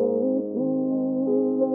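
A low-mid test tone in the 200 to 500 hertz range plays steadily for nearly two seconds, a clean sustained hum with slight shifts in pitch and no voices.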